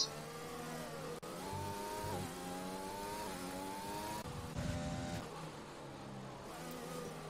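A Formula 4 race car in a sim racing league event at a China circuit drones loudly through harmonic engine sweeps, with rapid downshifts blipping the revs into turn one, close and continuous, no talk.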